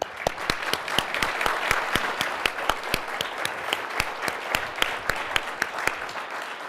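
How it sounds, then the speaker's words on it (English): An audience at a National Press Club event applauds with steady, dense clapping and sharp individual claps standing out, loud and sustained throughout. "How about a round of applause for our guests?"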